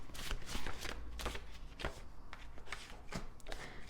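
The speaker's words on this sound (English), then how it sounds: "Just going to shuffle a bunch of them out and then we'll read them all at once." A deck of tarot cards is shuffled in quick, crisp riffling bursts, close and fairly quiet, with no voices.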